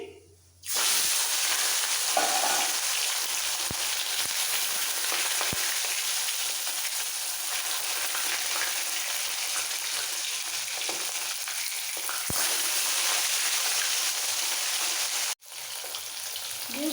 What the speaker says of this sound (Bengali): তেল ভালোভাবে গরম হয়ে গেছে এবার নুন হলুদ দিয়ে মাখানো মাছগুলো ছেড়ে দিচ্ছি